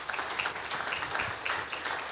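Church congregation applauds at a child's dedication service, a steady wash of many hands clapping together, moderately loud and even throughout.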